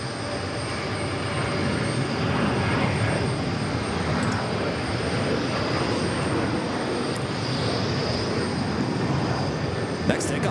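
A Delta A220-100 jet at JFK airport gives off a steady, even roar that holds at a constant level throughout, heard from a distance with no break or swell.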